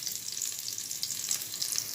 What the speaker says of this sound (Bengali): শাপলা ভাজা আজ রান্না করলাম শাপলা ভাজা